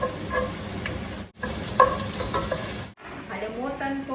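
Garlic and onion frying in oil in a home kitchen, a loud steady sizzle broken by two short pauses, with scraping stirs and a brief sharper crackle near the middle.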